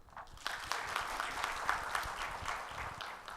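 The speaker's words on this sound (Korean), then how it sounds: "박수로 환영하겠습니다." A church congregation claps to welcome a baptism candidate forward, many hands making a sustained, fairly soft round of applause in a large sanctuary, heard without talk.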